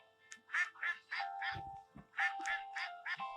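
A duck quacks in a series of nasal, repeated calls in bursts of three or four, close and clear over a faint steady hum.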